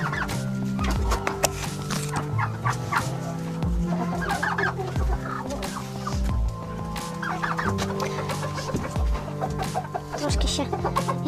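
Chickens cluck and murmur continuously in a coop, a dense overlapping flock heard close, with some birds sounding hoarse or sneezing as they suffer a respiratory illness.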